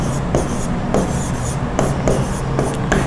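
Marker or chalk strokes writing on a classroom board during an electronics lesson, a steady series of scratchy rubbing strokes with short pauses between words, close and fairly loud.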